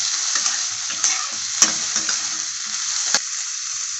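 Chopped onions, garlic and small pieces of dried coconut fry in a pan with a steady, close sizzle, broken by a few sharp scrapes and taps as a spoon stirs them.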